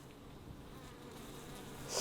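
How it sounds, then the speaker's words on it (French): Honeybees buzz around a production apiary of 25 hives set among ferns, a faint, steady insect drone with one bee passing close and louder near the end. "Voilà, donc là c'est un rucher de production typique, 25 ruches."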